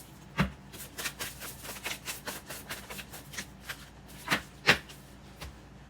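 Tarot message cards being handled and shuffled close up, a run of soft papery flicks and slaps in an uneven rhythm with a couple of sharper snaps, no voice.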